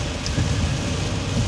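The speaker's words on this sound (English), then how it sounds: "Fucking water and the fucking rain." Steady rain pours down around a vehicle on wet roads during a Fourth of July downpour, a dense continuous hiss with low rumbling underneath and no voices.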